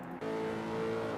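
A Lexus race car in a Misano racing game session roars loudly and steadily, its engine note holding a strong, sustained tone after a brief quieter start.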